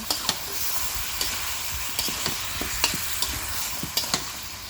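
Chicken and potatoes are stirred in a spiced pan, a spoon scraping and knocking against the metal in irregular strokes over a steady background sizzle.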